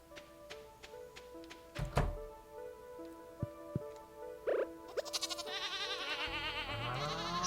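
A goat bleating in the Stardew Valley farming game, a brief nasal bleat midway after a few soft thunks and taps, then a brighter warbling game cue builds toward the end.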